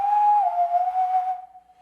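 A sampled folk whistle from a virtual instrument library sounds as a single clear sustained note with a slight bend, fading out after under two seconds.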